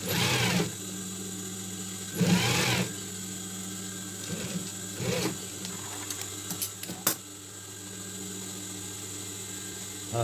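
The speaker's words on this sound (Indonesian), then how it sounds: "Ini juga harus dijahit ya, supaya tidak berubah nantinya." A sewing machine stitching fabric while reworking a cap, running in short whirring bursts separated by a low steady hum and small mechanical clicks.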